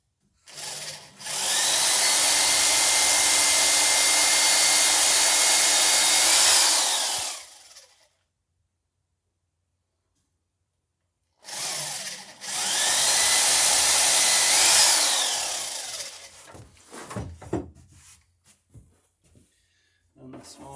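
Power drill boring into wood while installing the stem of a wooden boat, two long steady whining runs of about six and four seconds separated by a pause, close and loud, with clattering handling sounds afterward.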